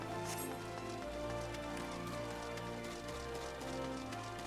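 Rain in Final Fantasy XIV pattering steadily on surfaces, soft and continuous beneath layered game music with sustained tones, no speech.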